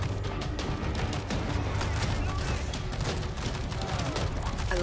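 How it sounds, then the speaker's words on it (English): Dense, continuous machine gun fire from the zombie shooter World War Z, loud and close throughout with layered bursts and impacts forming an unbroken wall of combat noise. "Machine guns locked in."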